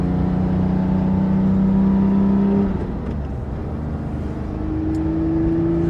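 A Porsche 997.2 GT3 RS sports car drives with a loud, steady engine drone and a rising rev that drops back as the throttle lifts, then holds again at a lower pitch, all close up and with no talking.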